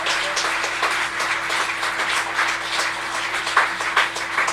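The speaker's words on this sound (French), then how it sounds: "On peut les applaudir une dernière fois." Audience at the Bordeaux Grand Prix 2007 final applauding steadily, a moderate wash of clapping from a medium-sized crowd with a few louder claps near the end.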